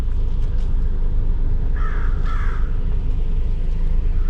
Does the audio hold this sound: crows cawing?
yes